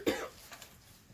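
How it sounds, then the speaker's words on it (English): A single short, sharp cough, close and fairly quiet, followed by a faint breathy pause. "sorry, cough break."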